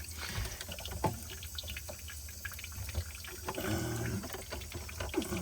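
Water running and spattering from a household water filter line during filter replacement, a steady close splashing flow with a few louder gurgles and knocks, no speech.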